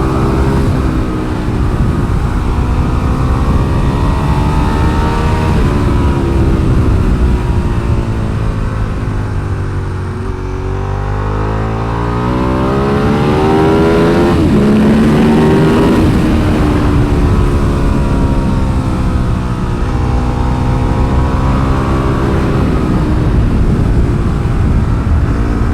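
A Ducati 1098 sport bike engine roars loud and sustained on a race track, its pitch sweeping up and down through gear changes and revs, with no talking.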